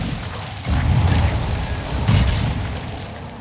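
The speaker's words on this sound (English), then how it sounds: "Quite an explosion there." A deep boom from an explosion in Dragon Age Inquisition, a loud low burst that swells and rolls over several seconds with a second heavy surge partway through, no talking over it.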